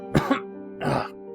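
Two rough coughs from thick dust clouds, the second stronger and longer, close and clear with a short pause between them and nothing else around.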